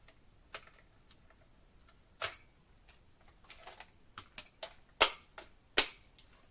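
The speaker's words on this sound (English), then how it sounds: "now we're going to die cut our focal image layer" Paper layer being die cut with dies from a Stylish Shapes set, heard as a series of sharp clicks and snaps in an irregular rhythm, growing louder toward the end, close by with no talk.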